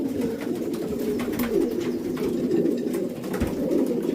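Racing pigeons being readied for a race to Grantham coo repeatedly at close range, soft rolling calls overlapping in a steady stream with no talking.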